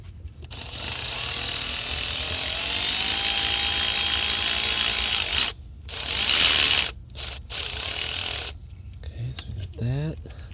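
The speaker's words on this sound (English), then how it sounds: "then we can just take a T20 Torx and go ahead and undo" Ratchet clicking as a T20 Torx bit backs out screws on the idle air control valve of a Jeep XJ Cherokee, a steady close run of fast pawl clicks, then several shorter bursts in a tight engine bay.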